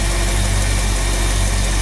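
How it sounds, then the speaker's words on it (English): A 1966 Ford Mustang GT V8 idles steadily up close, a loud, even low rumble with constant engine vibration and no talking over it. "Engine runs nice and smooth."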